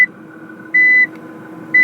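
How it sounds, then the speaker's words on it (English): A Nissan GT-R's reverse-gear warning sounds as two loud, sharp electronic beeps about a second apart, each lasting roughly a third of a second, over a quiet low cabin hum. "When you put this car into reverse, it will beep."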